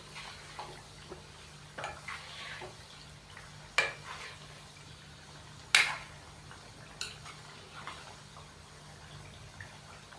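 Mashed tomatoes being stirred in a pot for chicken boneless handi, with a soft, steady scraping and a few sharper clinks of the spoon against the pot, quiet and close, with no talking.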